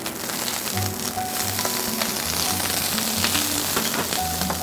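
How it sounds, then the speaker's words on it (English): Green beans and squash cooking in a pan, a loud, steady sizzle and crackle with faint scraping from stirring throughout. "we have the green beans cooking, and to that I'm going to add some of the squash"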